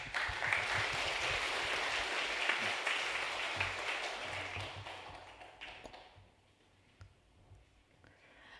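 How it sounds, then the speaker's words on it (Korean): Church congregation clapping during a Sunday worship service, a full round of applause that holds steady then fades out after about six seconds, leaving a quiet room with faint taps. "우리 박수로 모시겠습니다."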